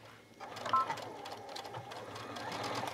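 Sewing machine stitching bias trim around a garment neckline: a steady, fairly quiet mechanical whirr that starts after a short pause and runs continuously.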